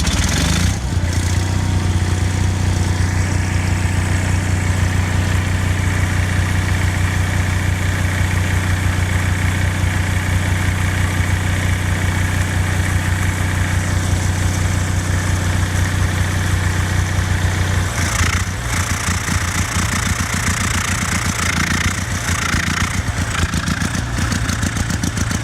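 An Onan generator engine in an MCI MC9 bus conversion runs loudly and continuously with a low, steady idling drone and a carburetor fault. Its tone roughens and shifts near the end, with no talking.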